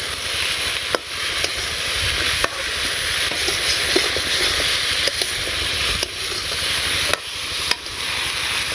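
Curry paste with salt, dried chili, turmeric and five-spice is sautéed in a pan, a dense, loud hiss of frying interrupted by regular scraping stirs every second or so.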